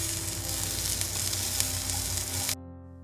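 Garlic cloves fry in hot oil with a loud, continuous sizzle and crackle that cuts off abruptly near the end, leaving only a faint hum.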